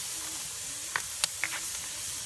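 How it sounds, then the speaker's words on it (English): Jerk chicken sears in a hot pan with a continuous hissing sizzle and a few small sharp pops, close and moderately loud with no voices. "You hear that sizzle?"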